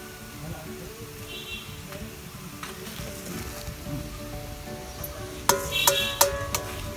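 Onions sizzle steadily in hot oil with ginger and green chili in a village-style chicken biriyani pan, with clinks of a ladle stirring toward the end.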